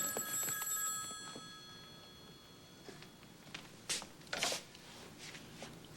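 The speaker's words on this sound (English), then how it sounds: "Don't you think you should answer the phone?" An old-style telephone bell rings in a rapid metallic trill for about a second, then falls silent, followed by faint rustling and a couple of brief soft knocks in a quiet room.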